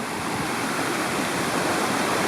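Continuous broadband rush of water flowing at a small dammed intake spot on a hillside stream, close and steady with no breaks.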